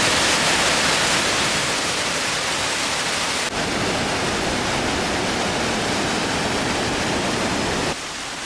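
A waterfall roars steadily in a dense, continuous wash of spray onto a hiking trail. The sound is loud and close and stays constant throughout, with one abrupt shift partway through.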